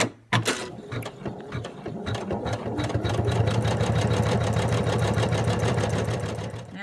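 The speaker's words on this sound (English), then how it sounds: "I have changed the thread on my machine over to black to do the pupil and just outline the eye" A sewing machine stitches black thread to outline a fabric mouse's eye and pupil, running in a steady, rapid mechanical rhythm after a couple of short starts, close and fairly loud with no talk.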